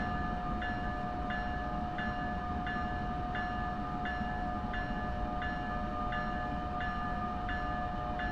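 Passenger train in the Train Sim World 6 game rolling to a stop, with a steady rail rumble and a sustained tone plus a faint chime repeating about every 0.7 seconds, no talk.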